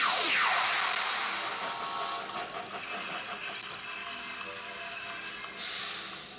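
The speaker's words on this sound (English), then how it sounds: "When the train departed in front of me, it came again, and soon the next train enters too." Trains in a video game pull out and roll in, a steady rail rumble with high wheel squeal and a brief rising tone near the start, fairly loud and with no voices.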